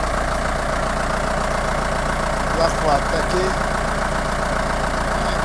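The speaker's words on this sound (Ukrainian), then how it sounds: "Приїхав трактор." A tractor engine idles steadily nearby at a firewood-gathering site, a constant low throbbing hum under brief talk.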